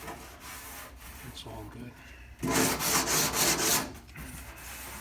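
Bondo body filler being spread and scraped over spot welds on a 1965 Comet's body, a raspy close smearing that grows louder midway, with brief talk at the start.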